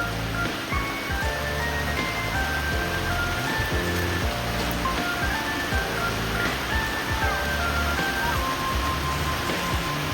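Steady rain pours down beside a river during family bathing, a dense continuous patter with scattered drip and splash details, while faint tonal sounds float above it.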